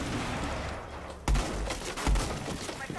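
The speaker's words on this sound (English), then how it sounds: "And I just shot my teammate" A gunshot in a team video game rings out as a player shoots a teammate, with two sharp, loud thumping shots over a busy background of game noise.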